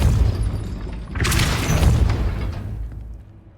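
A deep booming spell impact from the video game Hogwarts Legacy, a single heavy rumbling hit that swells, holds for a couple of seconds, then fades away into quiet.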